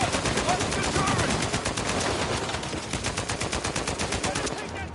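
A turret machine gun in Uncharted 4 fires a long, sustained burst of rapid automatic shots, loud and continuous over a dense backdrop of game noise.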